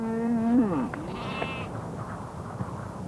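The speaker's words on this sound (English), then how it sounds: "There are hundreds of sheep on our island." A single sheep bleats once nearby, a wavering nasal call, followed by quiet outdoor background with faint rustling.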